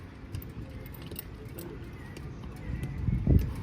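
A mare's hooves clip-clop on the ground at close range, building to a heavier thud near the end, under steady outdoor background noise.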